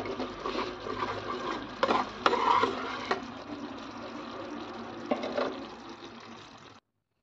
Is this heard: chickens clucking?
no